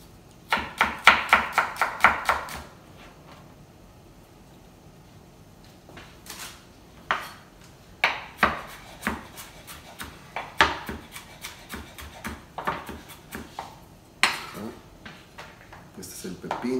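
A knife chops red onion on a cutting board in bursts of rapid, close, crisp taps, followed by slower scattered cuts and clinks, with no talk over it.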